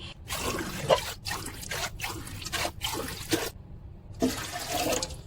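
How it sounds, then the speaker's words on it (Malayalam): Water pours in several splashing bursts with short pauses between, close and moderately loud, as water is tipped over rice in a bowl for soaking while preparing chicken biryani. "അതിൽ കുറച്ച് വെള്ളം ഒഴിച്ചിട്ട് സോക്ക് ചെയ്യാൻ വെക്കാം."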